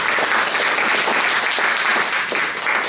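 Applause from the audience at a city council candidates forum, a sustained wash of many hands clapping at a steady, fairly loud level that eases off slightly near the end.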